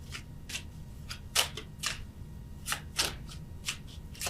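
Tarot cards being shuffled by hand nearby, a series of crisp riffling bursts in an uneven rhythm over a quiet low hum, with no speech.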